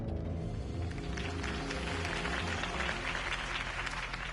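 Crowd applause at a campaign rally in a video game, sustained and dense from start to finish, loud and steady with no gaps.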